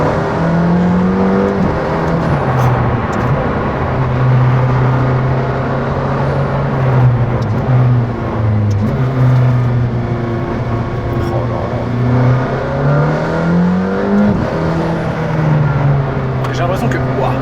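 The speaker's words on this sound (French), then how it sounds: "Plus tu roules avec, plus le moteur se libère. C'est une voiture de course." An 800 hp McLaren Senna sports car engine pulling hard from inside the cabin, a loud steady drone that climbs and falls with gear changes, with people talking faintly over it now and then.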